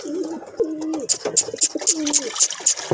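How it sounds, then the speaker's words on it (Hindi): Several thirsty pigeons coo in low, rolling calls, with bright fluttering and splashing at water mixed in nearby. "काफ़ी ज़्यादा प्यासे कबूतर है।"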